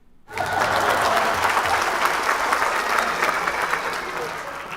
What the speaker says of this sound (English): Now that's also clapping